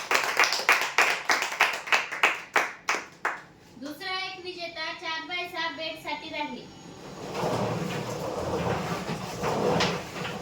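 A crowd at a Marathi prize lucky-draw event claps loudly in a quick, even rhythm for a few seconds. A voice then speaks over the hall, followed by a murmur of broader applause and crowd noise.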